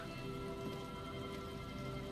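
Steady, even rain pours on surfaces in the video game Disco Elysium, a dense continuous hiss with no voices and no thunder.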